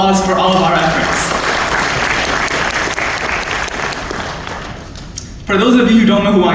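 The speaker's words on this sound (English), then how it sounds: "Can you please get another round of applause for all of our efforts?" Loud graduation audience applause fills a hall on UIC Graduation Day as a dense, steady wash of many hands, with someone speaking over it at the start and again after the clapping fades.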